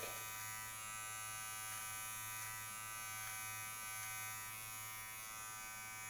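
Electric beard trimmer running steadily through a short beard, drawn slowly front to back: a continuous faint, even motor buzz for about six seconds with slight changes as it passes over the hair, no talking.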